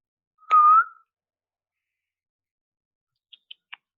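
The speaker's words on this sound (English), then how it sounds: "Who's that who whistled?" A single short, clear whistle rises and holds briefly in an otherwise quiet room, followed seconds later by a few faint, sharp clicks.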